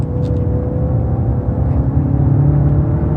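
A Hyundai Santa Fe with a 2.0L turbo engine pulls at full throttle, a steady loud humming drone with a low rumble and a slowly rising whir, heard from inside the cabin without talk.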